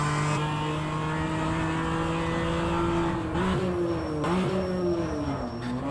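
A BMW M2 CS race car engine in a racing simulator drones steadily at high revs, pitch shifting as it shifts and accelerates, loud and continuous.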